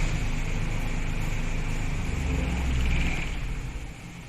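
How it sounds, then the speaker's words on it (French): A Citroën BX engine runs steadily at a technical inspection, a continuous close rumble with a slight swell near the three-second mark and no talk over it. "c'est juste inaudible avec le moteur qui tourne"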